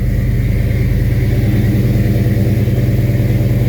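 Engine of a 1968 Chevrolet running loud and close with a fast, even rumbling pulse, holding at a steady rev with no talk.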